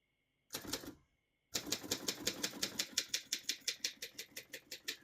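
A 1958 Voss De Luxe ST24 vintage portable typewriter being typed on: one short burst, a pause, then a steady run of crisp, close keystrokes with a sharp clack at each key strike.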